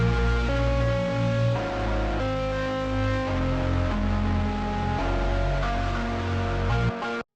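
Song loop put through a producer's distortion effect: sustained harmonic chords with gritty overtones shift every second or so and hold at a steady level, then cut off abruptly at the end, with no voices.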